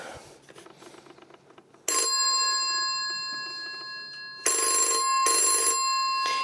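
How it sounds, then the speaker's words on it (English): Old-style telephone bells on a PMG 401 telephone ring in two loud, sustained bursts after a brief stretch of quieter sound, the metallic ringing close and alone. "now I'll call my home number so you can hear the bells"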